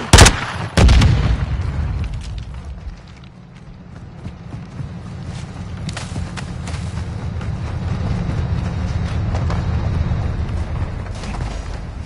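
A grenade explodes in an online Modern Warfare 2 match as a sharp, loud double blast at the start, followed by a low rumbling battle din that swells steadily afterward.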